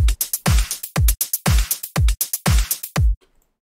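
A short drum pattern repeats several times, with punchy kicks and snares under washy cymbal crashes and hi-hats, then stops abruptly.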